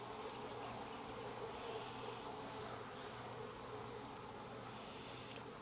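Honeybees hum steadily in an opened hive during a virgin queen installation, a dense continuous drone with a brief sharp click near the end.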